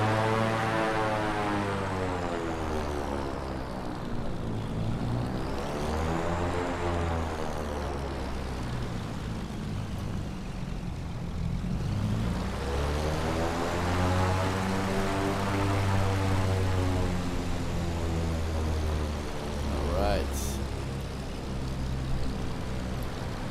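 Propeller engines of a Cessna 414AW Chancellor twin in Microsoft Flight Simulator 2020 drone steadily throughout, a loud layered hum with slowly rising and falling beating tones, no talking.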